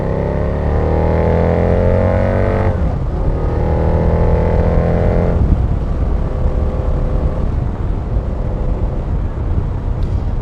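A 2008 Harley-Davidson V-Rod Night Rod Special accelerates hard, its loud, close engine note climbing steadily through the gears with clear drops at each shift and no talking.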